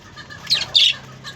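Pet birds being hand-fed give two short, sharp squawks close by over faint background noise.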